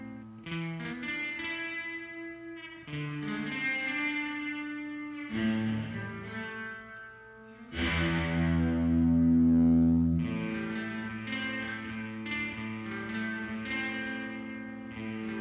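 An electric guitar through a Behringer DR600 digital reverb pedal plays a melody of sustained notes drenched in lush reverb, tails ringing out and blending between phrases.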